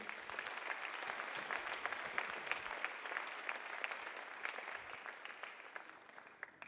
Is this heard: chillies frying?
no